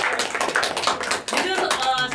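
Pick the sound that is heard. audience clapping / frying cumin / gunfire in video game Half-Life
audience clapping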